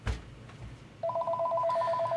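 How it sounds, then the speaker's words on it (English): A landline telephone rings indoors, an electronic trilling warble that starts after a dull thump and repeats in a rapid, steady pulse, loud and close with no voices. "Who can it be ringing someone else's phone?"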